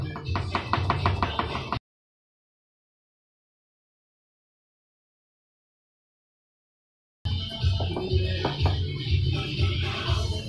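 Rapid, rhythmic knife chops on a cutting board as garlic is minced for fried rice, close and crisp, in two bursts separated by a silent gap.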